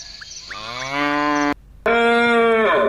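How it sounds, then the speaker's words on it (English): A cow moos twice, loud and close, each call a long, drawn-out low bellow, with a brief silence between them. "cow,"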